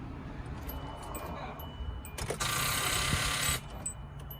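A car engine cranks with the key but fails to start, giving a rough, strained burst of about a second that is loud and close, set against a steady low background.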